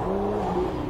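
A car sliding under heel-toe downshifting, heard as a sustained engine drone with steady harmonic tones and a faint tire hiss, loud and continuous for about a second with no talk.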